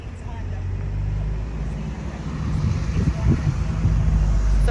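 A truck passing by on a road, a low rumbling roar that swells toward the end, heard close with people talking over it.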